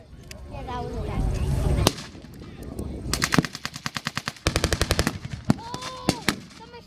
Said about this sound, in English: Oh, the machine gun on the tank.